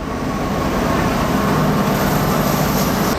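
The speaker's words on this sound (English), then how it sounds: "we are currently at the viaduct right as a train's going over" A train rumbles steadily across a viaduct above a creek, a continuous loud rolling roar with faint high squeal, heard close by throughout.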